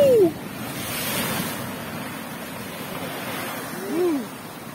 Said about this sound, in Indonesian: Tu gede sekali ombaknya tu.